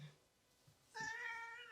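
A house cat gives a single short meow, faint and fairly close, in an otherwise quiet room.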